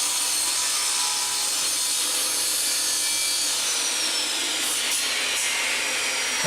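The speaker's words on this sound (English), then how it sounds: "I'm cutting it to length, and often you're going to get a much cleaner cut if you make it in two passes" A table saw cuts pallet wood to length, its loud, steady whine and rasp running continuously throughout with no voices.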